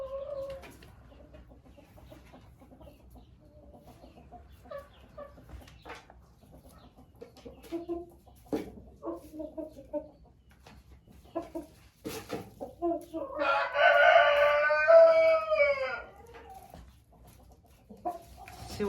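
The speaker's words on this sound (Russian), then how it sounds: "Вот и первое знакомство с петухом моей поместной курочки с амерауканом." Hens clucking and a rooster calling in a backyard coop as an Ameraucana hen meets the rooster, with a louder burst of harmonic crowing or cackling late on and someone speaking at times.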